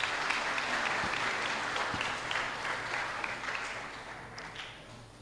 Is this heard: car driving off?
no